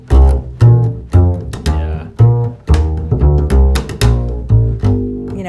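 A plywood upright bass is played in a percussive bluegrass style, close and alone, with short punchy plucked notes in a steady rhythm and little sustain.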